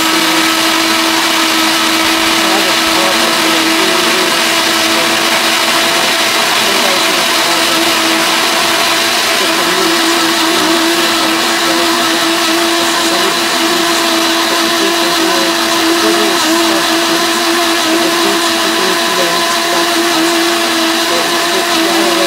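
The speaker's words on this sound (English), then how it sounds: "So after I put everything into the blender," Blender running steadily at high speed, blending oats, flaxseed and other ingredients into a breakfast smoothie with no milk or sugar; a loud continuous motor whine with a churning hum, unbroken and close.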